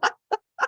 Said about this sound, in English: Oh, you hear my birds?